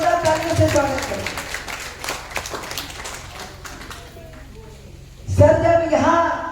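A crowd at a public welcome event in Bhagalpur, Bihar claps to greet a guest; scattered claps sit under a voice and thin out midway before talk resumes.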